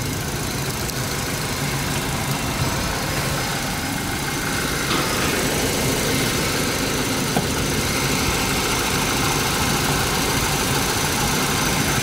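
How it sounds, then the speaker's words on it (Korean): A Kia Cerato with a manual gearbox and about 30,000 km idles steadily up close, a continuous even engine hum with light vibration and no voices. "엔진 소리 좋고요"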